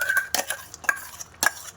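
Boiled desi chickpeas and chickpea paste are added to a pan and stirred with a spoon, giving a few quick scraping, clattering strokes and a faint sizzle, close and alone.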